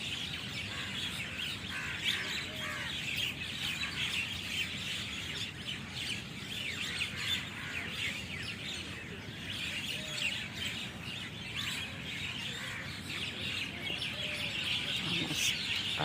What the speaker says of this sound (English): Hundreds of birds on this tree, hundreds of them.